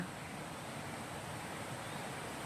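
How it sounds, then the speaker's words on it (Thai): Ton Nga Chang waterfall, a seven-tier cascade, gives a steady, loud broadband rush of falling water that holds even and unbroken throughout, with no voices. "โอ้ยน้ำตกสวยมาก"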